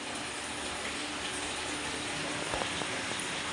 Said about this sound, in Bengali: আবারও বৃষ্টি পড়ছে।